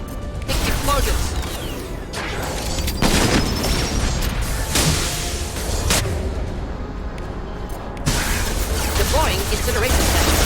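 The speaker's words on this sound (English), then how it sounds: "Impending explosions." Explosions in the video game Mass Effect, a series of heavy booms and blasts over clattering combat noise, with bursts near the start, middle and near the end.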